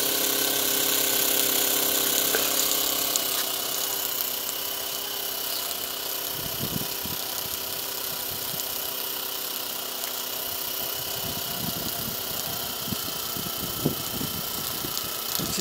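A Cheddar Gemini stationary steam engine with a 10 mm bore and stroke and reversing gear runs steadily, a close, continuous mechanical whir and hum with some irregular low thumps partway through.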